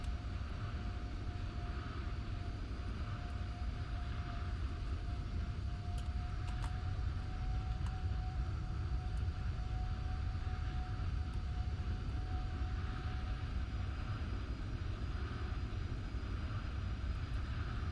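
Airplane engine on landing approach with flaps and gear down in the Roblox game Flightline, a steady unbroken engine drone and hum with a faint high whine, holding at an even level throughout.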